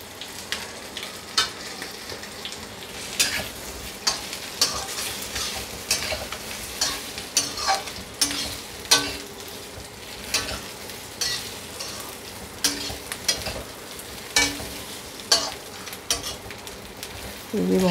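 A semolina snack roasts in a pan, its steady low sizzle broken by repeated scraping stirs of a spoon against the metal, each landing as a distinct clatter every second or so, close by and with no speech.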